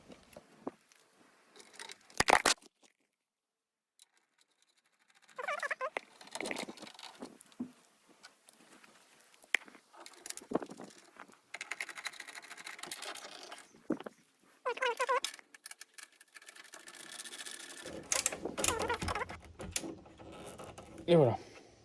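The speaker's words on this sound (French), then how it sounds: "on va pouvoir revisser nos 3 vis qui sont ici" Screws being driven back into the rear of a Porsche 997.1 during a reversing camera installation, heard as intermittent small ratcheting and clicking tool noises with handling sounds and brief pauses, close by and fairly quiet.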